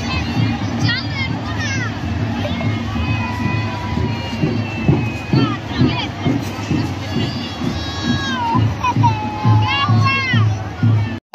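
A crowd gathers at the Kanti Kothiya Mazar Sharif shrine in Bihar, a loud, close mix of many overlapping voices with children shouting and calling out, busy and continuous.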